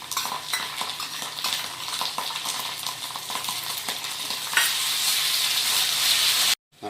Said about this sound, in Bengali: আর এখন দিয়ে নেব এর মধ্যে আদা রসুনের পেস্ট,